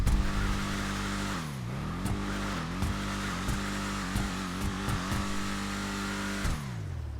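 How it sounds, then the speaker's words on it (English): A loud, steady Declasse Tampa GT muscle car engine in GTA Online drones throughout, its pitch swelling and dropping in several sharp revs. "let's give it some gas and rev it up here."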